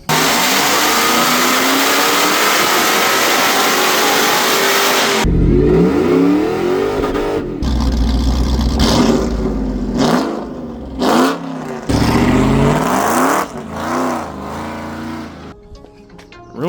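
A Ford Lightning truck with a newly fitted loud exhaust drones heavily, then fires off a series of sharp, aggressive revs in bursts with short gaps between them, close and very loud.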